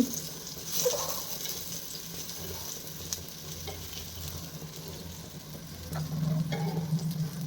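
Eggplant slices frying in a small amount of oil in a home kitchen, giving a steady low sizzle with occasional stirring and scraping clicks, moderately near and without talk.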